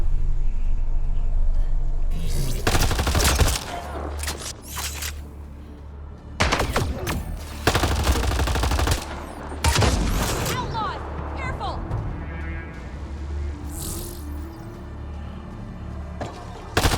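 Gunfire from the video game Mass Effect Andromeda comes in several loud, dense bursts of shots over steady low engine-like rumble, with pauses between volleys and a voice talking during the fight.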